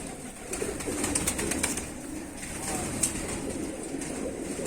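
Pigeons of the original-blood Teddy line at a Pakistani kabootar bazi loft, cooing softly and steadily over a noisy outdoor background, with a faint hiss of ambience throughout.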